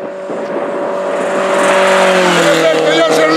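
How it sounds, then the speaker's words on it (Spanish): A Caminos del Inca rally car, a Junior-class entry numbered 28 on a stage toward Palpa, passes with a rising engine note that swells and rolls by, under a reporter's speech. "Y aquí viene otro coche, parece que ya en Serlecki"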